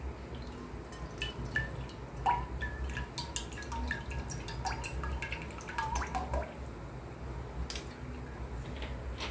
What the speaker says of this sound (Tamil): சோ இப்போ நம்ம ஒரு 3/4 லிட்டர் எண்ணெயை ஊத்திக்குவோம்.